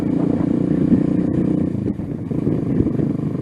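A Venom Ghost 250 motorcycle's engine and exhaust rumble loudly and steadily while riding, a deep, throaty drone with a brief dip in revs midway, mixed with wind and road noise.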